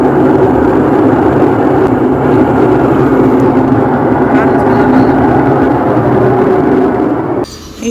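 Loud, steady mechanical roar from a faulty Whirlpool machine, louder than a generator, droning continuously at close range before cutting off abruptly near the end.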